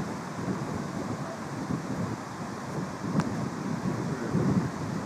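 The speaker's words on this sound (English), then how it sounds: "It's a wee bit windy" Steady wind buffeting the microphone, a low rumbling roar that swells and eases slightly, with no voices.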